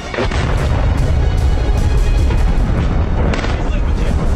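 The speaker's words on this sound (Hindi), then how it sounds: "हमले के जो वीडियो सामने आए हैं उसमें धमाकों की आवाज के साथ साथ धुएं का गुबार दिख रहा है" Explosions from an Israeli fighter jet strike on a military command centre in Beirut, heard as a loud, continuous roar of blasts and rumbling booms with sharp cracks throughout, dense and close, with no clear pause.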